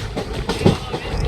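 A passenger train runs on rails during a journey from Goa to Guntur, heard from on board as a continuous low rumble with rhythmic clickety-clack beats from the wheels.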